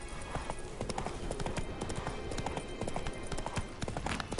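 Roach the horse gallops in The Witcher 3: Wild Hunt, a steady fast clip-clop of hooves thudding in rhythm throughout, close and continuous over a game soundscape.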